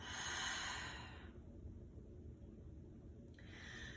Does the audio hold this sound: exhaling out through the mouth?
yes